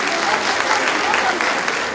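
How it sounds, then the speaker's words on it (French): Audience clapping at an award ceremony as a prize is handed to a former teacher, steady dense applause filling two seconds at close range with no pauses. "On les applaudit tous les deux."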